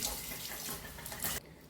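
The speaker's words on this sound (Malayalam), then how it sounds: "അപ്പൊ ഞാൻ വെള്ളം ഒഴിച്ചു കൊടുക്കാൻ പോവാണേ." Water pours steadily into a juice mixture, a close, continuous splashing stream that lasts about a second and a half and then stops abruptly.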